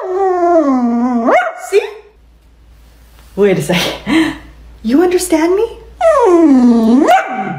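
A dog howls and barks in long wavering, rising cries across several bursts, loud and close, with a person speaking between and over the calls.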